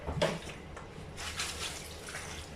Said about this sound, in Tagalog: So lagyan ng konting tubig.